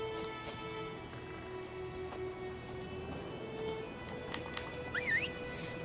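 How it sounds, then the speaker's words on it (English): Horse in The Witcher 3 answering a call, with a rising whinny near the end over a steady game ambience and light hoof clatter, fairly faint. "calling the horse works"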